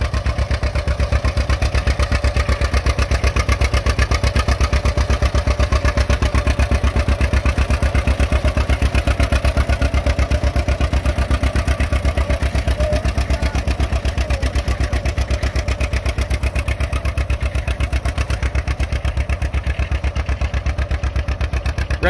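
A John Deere AR tractor engine chugs steadily while plowing, probably in second gear, with an even, rapid thumping rhythm that is loud and close throughout and no talking.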